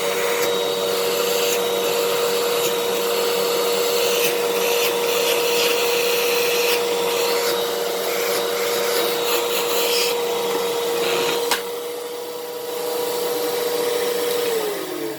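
A 12 amp Fantom Fury vacuum cleaner runs steadily and loudly with a constant motor whine for the whole stretch, its pitch dropping slightly near the end.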